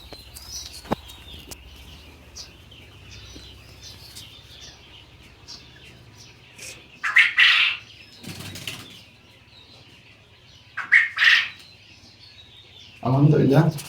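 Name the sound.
quails on an egg-laying quail farm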